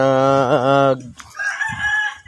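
A rooster crows close by in one long, loud call inside a bamboo pen, followed by softer clucking and faint speech-like murmurs from the fowl.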